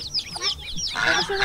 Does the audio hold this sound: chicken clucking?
yes